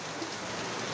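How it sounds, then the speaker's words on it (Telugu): Heavy rain pours down outdoors, a dense, steady hiss of drops drumming on surfaces that stays loud and even throughout, with no voices. "బాగా వర్షం వస్తుంది"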